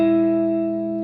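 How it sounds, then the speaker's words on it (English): An electric guitar's strings are slapped with the right hand, leaving a sustained, ringing chord washed in reverb that holds steady and slowly decays. "with your right hand, you just come down on the strings, and you can hear that reverb"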